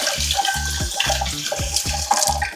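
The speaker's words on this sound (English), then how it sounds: "One final rinse in cold water." Cooked soya chunks rinsed under cold running water from a tap, a steady splashing stream with rhythmic pulses as the chunks are moved and squeezed in the flow, close and fairly loud.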